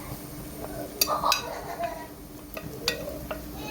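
Chicken with garam masala, black pepper, turmeric and salt is stirred in a pan, producing faint, scattered scrapes and light metallic clinks of a spoon against the pan.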